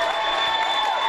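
A basketball crowd at a high school state championship game roars and cheers in a dense, sustained wash of noise, loud and continuous across the whole moment.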